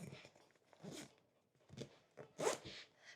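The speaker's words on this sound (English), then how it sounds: "So we're gonna zip that up." The top compartment of a BAGSMART backpack is zipped closed in several short, raspy pulls. The strokes come in irregular bursts, close and moderately quiet, with no talking.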